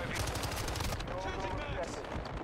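Light machine gun fire in Modern Warfare 2 rattles in a rapid, sustained burst of close, loud shots, with some voice underneath.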